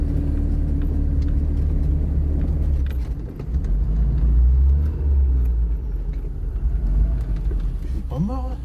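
A Fiat 124 engine rumbles low and steady as the car pulls away on a hill start, up close inside the cabin, with a brief rising squeak near the end.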